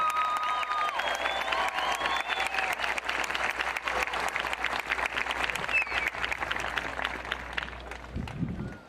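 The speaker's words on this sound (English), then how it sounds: "Let's give them a huge round of applause." Sustained applause from a large crowd at the 2021 Santa Fe High School graduation ceremony, dense steady clapping for about eight seconds before tapering off, loud and close.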